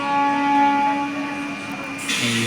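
A departing passenger train on a rail journey gives a steady close rumble with sustained tonal hum, the sound shifting and brightening near the end as it moves off; no talking.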